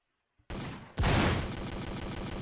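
Tower cannon in the Chaos Defenders tower-defense game firing at an enemy: a sharp blast followed by a louder booming shot and a sustained, dense rumbling barrage, with no talk.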